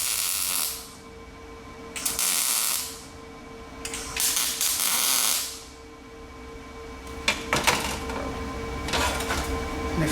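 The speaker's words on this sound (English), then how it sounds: "you weld inside the hole." Welder plug-welding inside a drilled hole, with several bursts of hissing, crackling arc noise a second or two long, separated by quieter pauses, heard close up.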